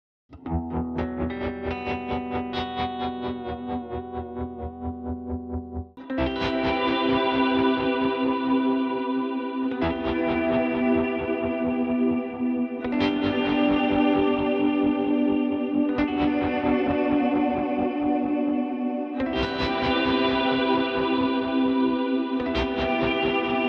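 Electric guitar chords ring through a pulsing, wavering tremolo effect from a Hologram Electronics Chroma Console pedal, the volume throbbing steadily as new strums enter every few seconds.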